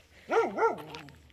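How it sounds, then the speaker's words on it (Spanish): A guard dog barks at wild animals near a camper van in Italy, giving two quick rising-and-falling bark-yelps close by, then a softer trailing whine, with no talk during the sound. "Este es nuestro perro guardián."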